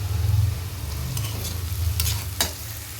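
Tamarind thokku bubbling and simmering in a pan, a steady low sizzling burble with a few brief stirring scrapes near the end, close and alone with no voices.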